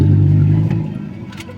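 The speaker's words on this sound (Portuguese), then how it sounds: "Negócio de moto ali." Near a crowded passenger van, a motorcycle passes with a loud mid-pitched engine roar that starts strong and then fades as it moves away.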